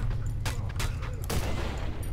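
Several sharp gunshots crack out in the horror game Cry of Fear, three or four separated bursts over a steady low background drone, fairly loud with no talking.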